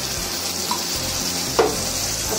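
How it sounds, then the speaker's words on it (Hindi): Jackfruit curry sizzles loudly in a hot pan as water is poured in, giving a steady bright hiss with a brief splash partway through. "अब इसमें हम लोग पानी डालेंगे।"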